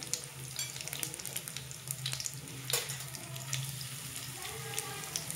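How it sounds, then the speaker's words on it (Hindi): Potato noodle pakoras frying in hot oil over a low flame, a steady close sizzle and crackle that runs through the whole stretch, with a few sharper pops along the way. "और हल्की आंच पे हम इनको फ्राई करेंगे, नॉर्मल रेडिश होने तक फ्राई करेंगे"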